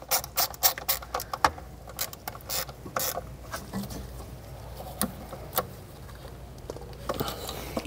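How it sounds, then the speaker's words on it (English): Close ratcheting clicks as 5 mm Allen bolts on a Volkswagen VR6 throttle body are tightened, irregular bursts of sharp metallic ticks with short pauses, no talking. "Now we can tighten down all the throttle body bolts, and these are 5 millimeter Allens."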